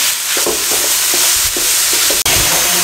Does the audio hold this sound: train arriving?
no